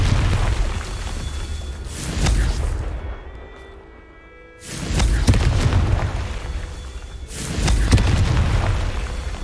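Three heavy booming blasts from a Confringo fire spell in a video game, each a loud, deep, rumbling explosion that swells and fades, separated by brief quieter stretches.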